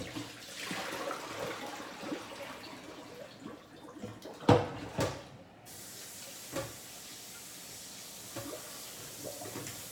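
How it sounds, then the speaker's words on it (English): Running water rinses out a juicer at a sink, a soft continuous splashing hiss with a couple of louder knocks and sloshes midway, then a quieter trickle. "kind of rinse out this real quick."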